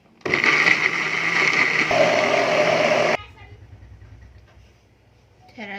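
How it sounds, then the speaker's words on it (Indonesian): A kitchen blender whirs loudly for about three seconds while grinding a white base paste of cooking spices, then cuts off, leaving quiet room noise and a faint voice at the end. "Blender lagi."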